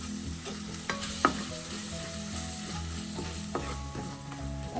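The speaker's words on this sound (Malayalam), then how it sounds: "അതുപോലെ മൂത്ത ശേഷം എല്ലാം കൂടെ ഇട്ടൊന്ന് മിക്സ് ചെയ്യാം." Spices such as pepper powder sizzle in hot oil in a pan while being stirred for a fish chili curry, with a steady frying hiss, a few clinks of the spoon, and no talk.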